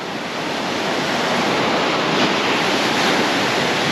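Surf rolls steadily onto a steep beach as the tide rises under an overcast sky, a continuous loud wash of breaking waves with a little wind noise and no voices.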